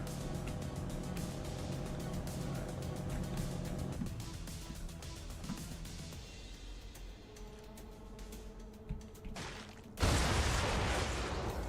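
A sudden loud blast erupts near the end in the Brigador Killers video game, breaking over a steady droning mechanical rumble and scattered crackling.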